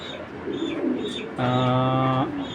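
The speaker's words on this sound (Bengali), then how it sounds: "হ্যাঁ 23-এর একটা মাদি কবুতর, ওভার লাইট কালার মাদি" A female racing pigeon coos once with a low, throaty, rolling call, close by, over faint background noise.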